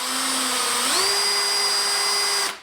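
A drill bores a small pilot hole while a CNC machine frame is being assembled. Its steady, close motor whine steps up in pitch partway through, runs evenly for about two and a half seconds, then stops.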